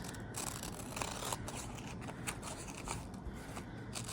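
Scissors snip steadily through fabric, cutting a pattern piece out along a dotted seam-allowance line, a close, continuous run of crisp crunching cuts with no talk.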